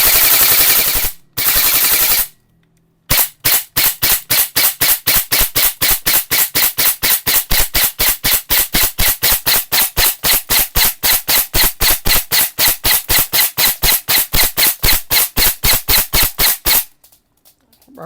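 An E&C airsoft blowback rifle fires a couple of short bursts, then a long rapid full-auto string of sharp, evenly spaced cracks, loud and close, ending abruptly.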